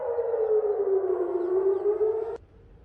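An air raid warning siren wails in Eilat, Israel, a loud, steady, slowly wavering tone that holds for over two seconds and then cuts off abruptly, leaving faint background noise.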